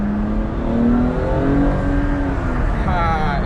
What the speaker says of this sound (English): And we are now driving the BMW M235i.